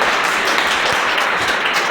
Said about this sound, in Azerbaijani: Ləman da alqışlayaq.